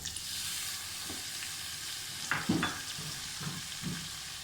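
Chicken stir-frying in a pan as capsicum and other vegetables go in, with a continuous sizzling hiss broken by a few sharper clatters and scrapes of stirring close by, no talking.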